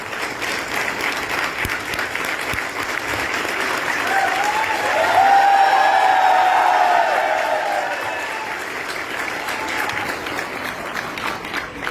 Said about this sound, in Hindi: ये हौसला बढ़ाने के लिए तालियां थी क्या मैडम?